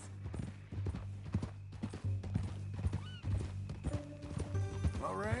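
Horse hooves clip-clop steadily at close range in the video game Red Dead Redemption 2, with a brief whinny near the end and a low hum underneath.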